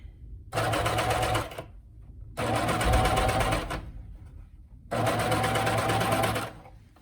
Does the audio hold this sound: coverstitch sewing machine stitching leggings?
yes